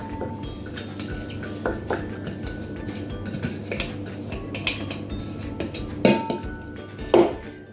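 A utensil scrapes and clinks against a dish as grated carrots are stirred into a marinade mixture for pickled eggplant, close and steady, with a couple of louder knocks near the end.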